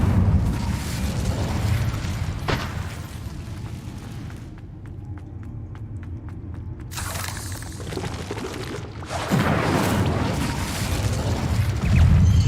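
Incendio fire spells burst in Hogwarts Legacy with loud, roaring flame explosions and crackling pops, broken by a brief near-silent gap before the fiery bursts return.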